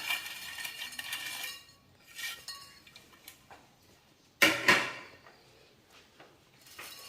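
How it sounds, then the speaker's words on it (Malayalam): Freshly fried snack tipped from one vessel into another, with a run of metallic clatter and clinking of utensils and dishes, one louder burst of rattling partway through, then quieter scrapes. "വറുത്ത് കോരിയ മുഴുവൻ സ്നാക്കും നമുക്കൊരു വേറൊരു പാത്രത്തിലേക്ക് മാറ്റാം"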